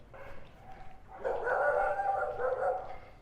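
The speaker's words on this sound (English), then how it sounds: "many people have dogs, either as pets or for security, but you hear them barking a lot" Dogs in a Merida, Mexico neighborhood bark in a busy, overlapping chorus that bursts in after a quieter start, moderately distant and sustained to the end.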